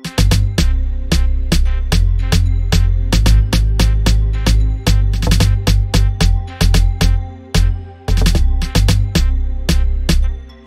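An amapiano beat pattern has snares layered with a deep, booming log drum, driving a loud, steady groove of punchy hits throughout with no talking.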